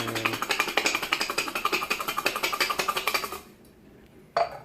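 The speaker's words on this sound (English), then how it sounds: "going to be throwing it in with a bowl, shake it up" Garlic cloves shaken hard in a bowl to loosen their husks, a fast, regular rattling clatter of about three seconds, then silence and a single closing knock.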